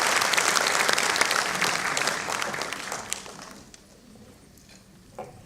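A crowd at a 25th anniversary celebration gives a loud round of applause for Reverend Father Savio Silveira, dense clapping that swells and then fades out to near silence.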